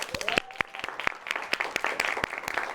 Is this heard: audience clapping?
yes